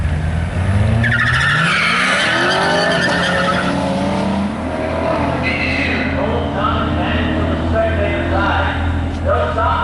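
Drag race cars at a dragway spin their tires, a loud screeching squeal with rising engine roar that sweeps up and repeats as cars launch, heard from a distance while an announcer talks over the track noise.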